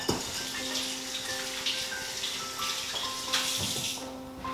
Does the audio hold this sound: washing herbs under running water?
yes